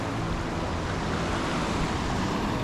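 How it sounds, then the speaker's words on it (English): Rushing water washing out from the bottom of a river weir onto a sandy beach, a loud, continuous broadband roar with no distinct breaks, close and unbroken throughout. "There's a big wash coming out of the bottom of the weir, and there's these little waves on a nice sandy beach."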